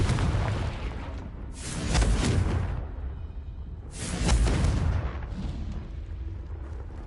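Two loud blasting-curse explosions from Confringo in the Hogwarts Legacy video game, each a heavy booming burst with a whooshing tail, spaced a few seconds apart over a steady low rumble.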